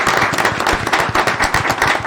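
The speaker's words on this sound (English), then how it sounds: "Give her a round of applause" Applause at a mayor and council meeting as a new communication division manager comes forward, a moderately loud, steady patter of many hands clapping, continuous and fairly close, with no talk over it.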